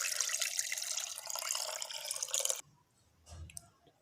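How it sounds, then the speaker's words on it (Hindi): Three cups of water poured onto chicken pieces in a cooking pot, a steady close splashing stream for a couple of seconds, then silence and a brief trickle. "अभी हम इसके अंदर 3 कप पानी के डालेंगे।"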